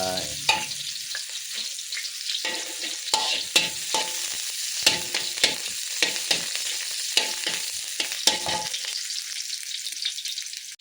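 Chili and garlic stir-frying in hot vegetable oil in a pan, a loud continuous sizzle broken by repeated scraping and clanking strokes of a spatula.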